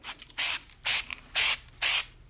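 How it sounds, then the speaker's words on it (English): Lubricant sprayed onto the outside of a reassembled handgun from an aerosol can: four short, even hissing bursts with brief pauses between them, close and fairly quiet, with no talk. "just spray the outside and do the same thing"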